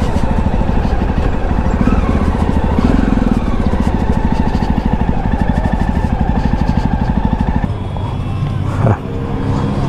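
Yezdi Scrambler motorcycle engine idling steadily and loud nearby with a throbbing rhythm, the note dropping lower near the end; a few faint voices under it.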